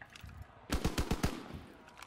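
Gunfire in a video game shooter: a rapid burst of about five loud, sharp shots in quick succession, standing alone over a faint background hum.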